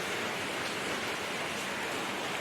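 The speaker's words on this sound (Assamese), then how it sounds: "দেখিছেনে? পূৰা বৰষুণ" Heavy rain pours down in a dense, unbroken roar of broadband hiss, loud and steady with no pauses and no voices.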